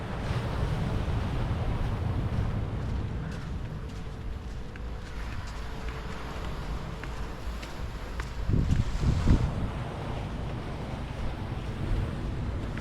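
Wind buffets the microphone while ocean waves wash ashore at a hot beach in Puducherry, a broad steady roar with a louder surge of surf near the end.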